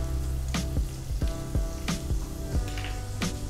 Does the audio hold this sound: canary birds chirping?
no